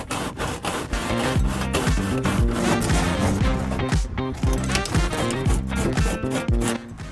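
Someone sands wood on a Bigfoot camper's spine with coarse 40-grit sandpaper. The close, steady rubbing runs in rapid, rhythmic back-and-forth strokes throughout.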